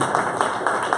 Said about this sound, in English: Let's give our candidates another round of applause.